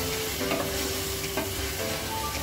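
Mutton rava upma is stirred in a hot pan, giving a continuous loud sizzle with soft scraping strokes close by and no voices.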